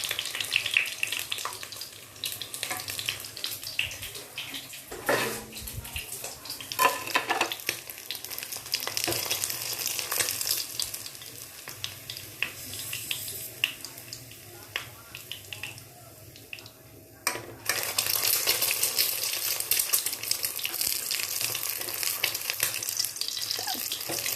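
A fried egg sizzles in a pan, a steady crackling hiss with scraping and some water-like sounds at the start, while someone talks over it.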